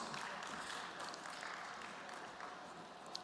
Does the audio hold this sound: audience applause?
yes